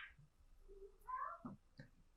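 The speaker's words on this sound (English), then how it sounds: "Meow." A cat meows a few times indoors, the calls fairly faint and spaced apart with quiet gaps between them.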